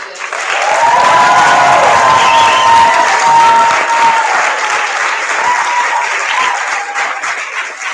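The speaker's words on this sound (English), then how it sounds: "How about a big round of applause for all the IB candidates?" Loud applause and cheering from the crowd at a high school IB graduation ceremony for the graduating candidates, a full roar of clapping with whoops and a few voices rising through it, easing slightly toward the end.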